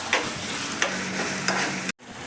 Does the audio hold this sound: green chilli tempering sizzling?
yes